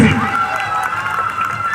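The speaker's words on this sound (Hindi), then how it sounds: "ताली हो जाए हल्ला करके।" A crowd at an outdoor Hindu jagran night celebrating the Ram Mandir consecration claps and shouts, a dense, loud wash of cheering voices and clapping that lasts a couple of seconds.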